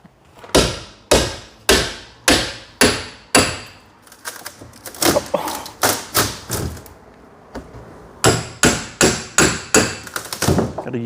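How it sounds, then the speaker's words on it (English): Sharp hammer blows strike a wooden engine crate in quick bursts, loud and close, with a short pause midway before another rapid series of impacts. "That we need a large rock or a hammer."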